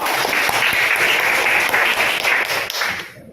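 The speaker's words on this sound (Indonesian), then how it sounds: "Tepuk tangan dulu" Classroom applause from a group of students, dense steady clapping at full volume for about three seconds before it cuts off, with no talking over it.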